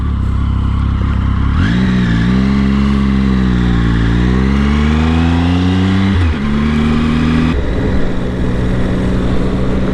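A Triumph Speed Triple motorcycle engine rises steadily in pitch as it accelerates, drops briefly at a gear change, then pulls again, loud and continuous under heavy wind rush.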